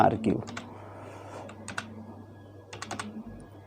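Keystrokes on a computer keyboard as a file name is entered in a save dialog, quick bursts of clicks near and clear, with a voice speaking over the start.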